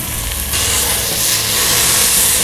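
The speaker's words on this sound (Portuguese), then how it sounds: "Eu já seguro ela de lado aqui para dourar todos os lados." Meat browns skin-side down in a hot pan for a broth, held on its side to color all over. A loud, continuous sizzle fills the space up close with a dense, even hiss.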